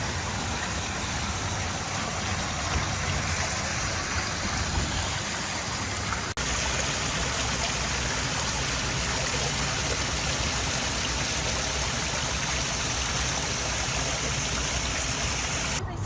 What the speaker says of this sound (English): Another little waterfall.